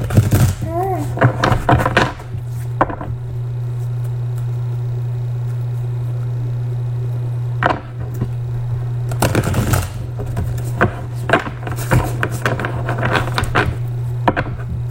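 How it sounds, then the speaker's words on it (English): Tarot cards shuffled by hand in repeated bursts of riffling and tapping, separated by pauses, over a constant low hum, with a voice talking between them. "Let's go ahead and shuffle you some cards."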